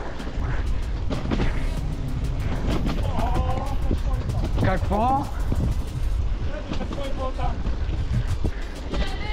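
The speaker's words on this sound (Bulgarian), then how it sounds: "Заваля яко." Heavy rain and gusting wind roar in a steady, loud wash throughout a storm while riding bicycles, with people shouting and talking over it.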